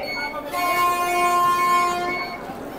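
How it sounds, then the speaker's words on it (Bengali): The MGR Chennai Central–New Jalpaiguri Express passes with a sustained, fairly loud horn blast lasting about two seconds over the rolling rush of the train. "এটা হচ্ছে MGR Chennai central new Jalpaiguri express."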